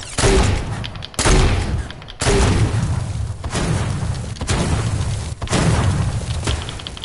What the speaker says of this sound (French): c'est un truc de fou même les grenades